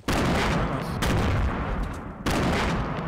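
Dense, continuous gunfire crackles through a Fortnite firefight inside a house, loud and near, with a brief pause after one second and another near the two-second mark before the shooting resumes.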